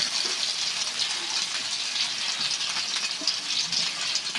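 Fish pieces dropped into already hot oil in a pan, a loud, steady close sizzle and crackle of frying that continues without a break.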